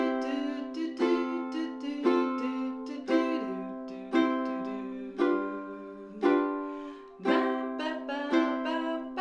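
A ukulele plays a song with two simple down strums per chord, each stroke a distinct bright hit in an even, unhurried rhythm, close and moderately soft.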